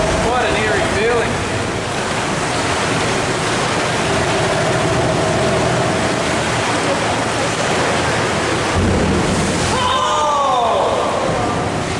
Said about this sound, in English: you'll hear the rumble of the swell coming in on the far side